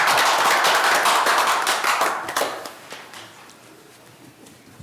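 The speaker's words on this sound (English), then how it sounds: "Round of applause" A round of applause at a Human Relations Commission meeting: dense, loud clapping from a room of people that fades away over the last couple of seconds.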